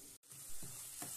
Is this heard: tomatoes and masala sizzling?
yes